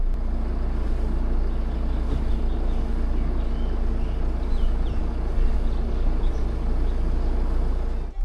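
A Jeep Meridian 4x4 climbs an off-road slope in four-wheel-drive high range, its engine a loud, steady, close drone with a constant low hum and no break in intensity.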